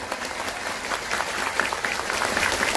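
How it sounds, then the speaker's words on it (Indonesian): Steady applause from a crowd at a religious lecture event in Taichung, Taiwan, dense and continuous throughout with no break. "Tepuk tangan untuk beliau."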